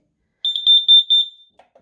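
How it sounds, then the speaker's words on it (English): A carbon monoxide alarm chirps in a quick run of about eight sharp, high beeps, loud and close, then stops with a couple of soft clicks. "CO2 alarm is working."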